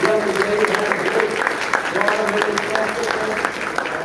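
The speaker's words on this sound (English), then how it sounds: "Let's give him a round of applause." Audience applause at a ceremony honoring a Medal of Freedom recipient, steady dense clapping from a sizable crowd throughout, with a voice briefly heard over it.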